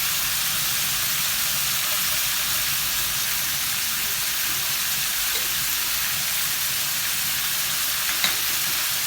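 Shrimp sizzle and fry steadily in a hot pan with seasoning, a constant loud hiss with a faint clink near the end and no talking.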